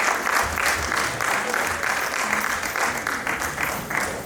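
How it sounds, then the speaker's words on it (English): Audience applause at the Power of Peace annual event 2019, a dense, steady burst of many hands clapping that holds loudly for about four seconds. "Let's give them another round of applause"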